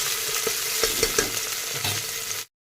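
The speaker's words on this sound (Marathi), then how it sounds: "टोमॅटोसुद्धा एक दोन मिनिट आपल्याला छान असा परतून घ्यायचा आहे" Tomatoes sizzle and sauté in a pressure cooker, a steady broadband hiss with a few soft stirring clinks, ending abruptly.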